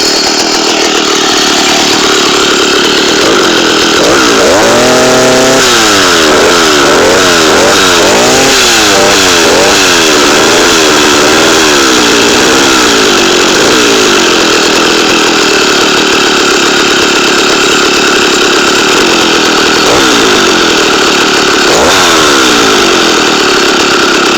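A small engine idles steadily after its carburetor was replaced, giving a loud, continuous buzzing drone with a brief wavering rev in the middle, close up throughout.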